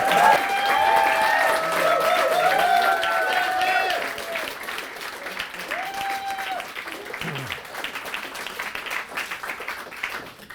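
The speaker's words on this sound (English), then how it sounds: "A big, big, wonderful round of applause" An audience at a poetry reading applauds a poet at a literary venue, with dense, sustained clapping and a few cheers. The clapping is loud at first, then thins out and continues more softly.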